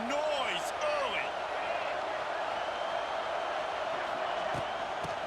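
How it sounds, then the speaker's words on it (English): Stadium crowd noise from EA Sports College Football 26, a steady loud roar of cheering fans that holds throughout, with whoops and shouts rising briefly near the start. "This crowd bringing the energy and noise early."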